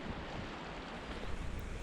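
A river flowing past, heard as a steady, even broadband rush of water with no pauses and no voices.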